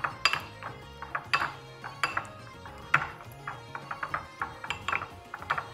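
A spoon mixing tomato ketchup sauce in a bowl gives repeated light clinks and taps, irregular and close, with no talk.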